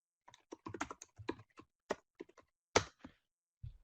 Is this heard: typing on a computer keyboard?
yes